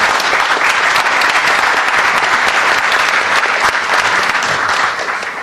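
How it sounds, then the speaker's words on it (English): Loud, sustained applause from a luncheon audience honoring retiring Tech Council leader Tom Still, dense continuous clapping that holds steady before tapering off slightly at the end. "Let's give him a round of applause."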